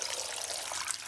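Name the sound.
water poured into a pot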